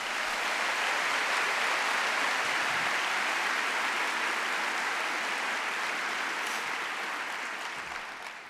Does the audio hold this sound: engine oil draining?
no